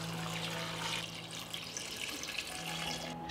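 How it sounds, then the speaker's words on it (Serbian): Two litres of cold water pour steadily into a cooking pot holding peeled pears, a continuous splashing stream close by with no voices. "U šerpu sipam 2 litre hladne vode."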